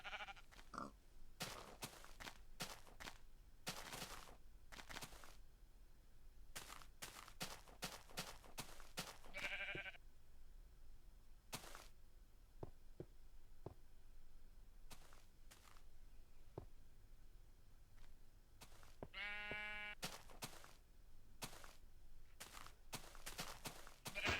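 Sheep bleat twice, well apart, in Minecraft Beta, amid a steady patter of footsteps and small clicks.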